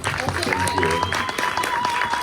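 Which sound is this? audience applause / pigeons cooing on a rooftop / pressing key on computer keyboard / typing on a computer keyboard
audience applause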